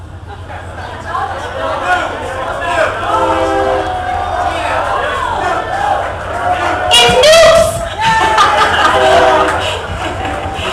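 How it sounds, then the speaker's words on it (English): A train rumbles past with a steady low drone, a crowd talking and cheering over it at a Fourth of July event in Washington, Missouri, and a horn-like blast partway through. "Here comes our train again."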